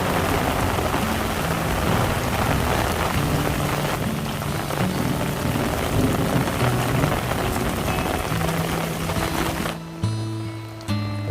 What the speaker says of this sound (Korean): 이렇게 방문한 시간에 소나기가 내리고 있습니다